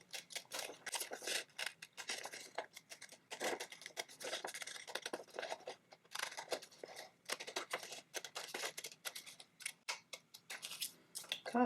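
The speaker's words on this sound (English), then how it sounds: "I'm just going to go cut out this circle here." Scissors snipping around a paper circle for a craft tin cover, giving a steady run of quiet crisp cuts and rustling paper close by with no talk.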